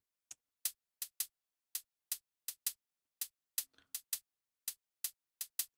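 A liquid drum and bass hi-hat pattern plays alone: sharp, crisp, evenly spaced ticks in a simple repeating groove with no rolls or pitch changes, moderately quiet.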